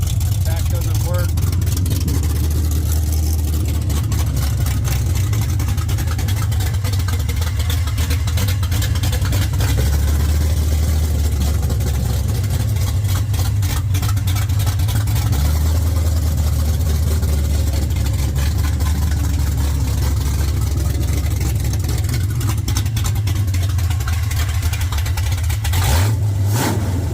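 A 1979 Ford Mustang Foxbody engine runs steadily at a low, rumbling idle for nearly half a minute, with a few brief rises in revs, loud and close, with talk over it.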